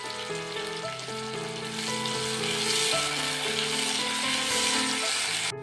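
Onions, green chillies and bay leaves fry in potato-frying oil for Assamese-style chicken curry, giving a dense, continuous close sizzle with overlapping tonal hum, steady throughout and cutting off abruptly.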